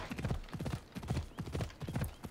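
Hooves of a winged horse clip-clop in the video game Assassin's Creed Odyssey, a steady, rhythmic trotting patter of close, clear hoofbeats repeating throughout.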